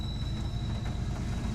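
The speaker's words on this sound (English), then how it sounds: "There's actually a train going behind us right now." A BNSF freight train passes behind outdoors, giving a steady low rumble of rolling railcars that holds level throughout, with a thin high whine running on top.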